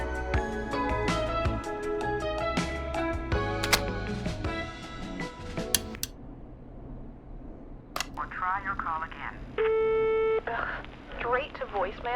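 Telephone call in the horror radio-host game Killer Frequency ringing through and cutting to a voicemail beep, with steady electronic tones after a stretch of dense game music and effects.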